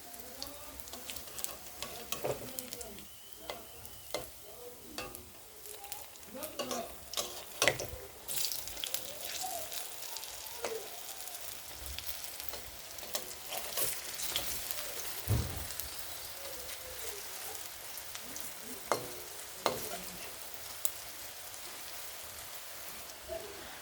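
Chana dal fritters (bora) sizzle and crackle in hot oil as they are turned, a soft continuous frying hiss with occasional louder pops and utensil clinks.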